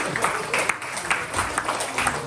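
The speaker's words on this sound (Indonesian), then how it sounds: "Para ibu, kita berikan tepuk tangan pada para ibu semua." Church congregation applauds mothers during a Mother's Day service, a moderate, steady patter of many hands with a few sharper claps, set against a low room hum and reverberation.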